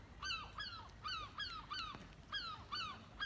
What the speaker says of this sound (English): That is one noisy pair of gulls.